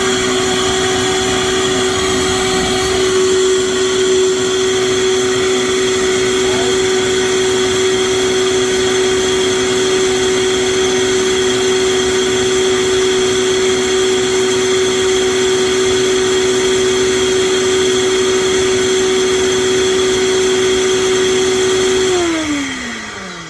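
A blender on its highest setting grinds mamey sapote fruit, a loud steady motor whine with a strong constant hum that runs unbroken for about twenty seconds before spinning down at the end.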